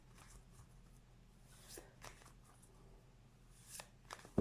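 Tarot cards are handled and shuffled at close range, with soft papery riffles and slides and a few sharper flicks. The sounds are faint and come in irregular bursts, with no talk.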